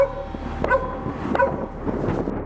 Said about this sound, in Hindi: दूर से कुत्तों के भौंकने की आवाज गूंज रही थी